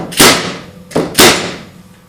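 A Porter Cable DA250A finishing nail gun fires three sharp, loud shots at close range, the last two in quick succession, each with a short decaying tail.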